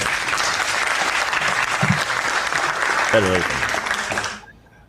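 Canned applause sound effect: a dense, loud wash of clapping and crowd noise that runs steadily before cutting off abruptly near the end, with a brief voice heard over it.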